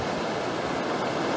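Steep Myrtle Creek rushing down toward Myrtle Lake in Alaska, a dense, steady roar of falling water, loud and close with no voices.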